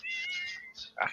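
A cat gives a short, fairly faint meow, a sustained tonal cry followed by a brief second chirp-like call, heard alone in a quiet room.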